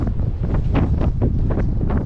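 Blizzard wind in a snowstorm on a mountain road in Ossetia, a loud, steady roar buffeting the microphone with gusty surges throughout and no voices.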